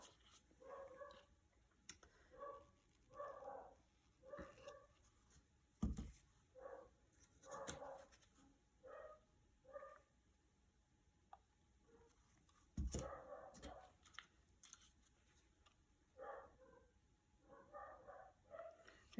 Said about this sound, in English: if you hear something in the background, that's my dog barking.